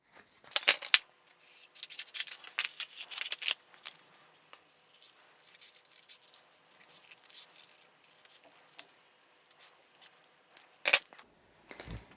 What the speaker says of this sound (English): now I have a sheet of stickers that I can hand cut